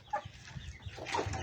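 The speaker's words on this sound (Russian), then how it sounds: "Вон цыплята с курицами едят." Hens and chicks cluck softly while feeding in a farmyard, short close clucks and peeps overlapping in quick succession.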